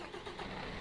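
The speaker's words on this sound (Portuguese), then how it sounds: "Deixa eu ligar o truck aqui." Mercedes New Actros truck engine starting in Euro Truck Simulator 2, a short steady mid-frequency engine rumble with no voices.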